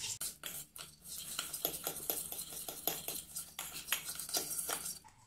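A spoon beats coffee powder and sugar in a small cup for homemade cappuccino, giving a quick run of close, rhythmic scraping clinks with no talk.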